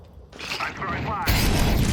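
An incendiary grenade goes off in a Counter-Strike-style shooter. Mechanical clatter is followed by a loud, roaring burst of flame, with a voice heard in the mix.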